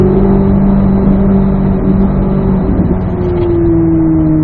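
A race car on track powering out of a third-gear turn, the engine note rising steadily as the throttle comes back on, loud and close with a continuous tonal drone and no talk.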